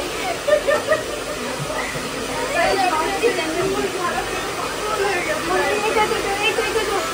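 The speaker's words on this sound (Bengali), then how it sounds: "এই বন্দুক দিয়ে চুল ঝেড়ে দিচ্ছি।" An air blower gun blasts cut hair off a baby after a haircut, giving a steady, close hissing rush of air that swells and falls for several seconds, with voices in the background.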